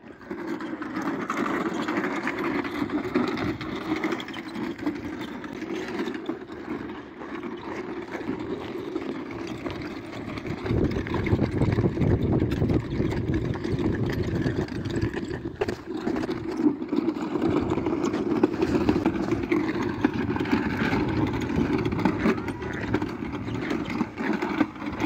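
An agricultural planter sowing caraway in hard farmland in Minya, its engine droning steadily and loudly for the whole stretch with rattling, rough mechanical texture and no voices.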